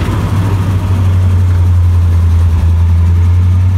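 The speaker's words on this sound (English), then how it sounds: "That is a flathead Ford V8 from the 30s." A 1930s flathead Ford V8 fitted in a Willys 6x6 Jeep idles loud and close, with a steady low rumble and even throb that holds unchanged throughout.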